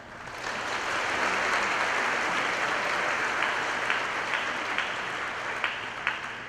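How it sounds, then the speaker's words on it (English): A banquet crowd at a Shrine function gives a round of applause for band and football participants. A broad, sustained wash of many hands clapping holds steady throughout at moderate distance, with a few sharper claps standing out. "let's give them one more round of applause"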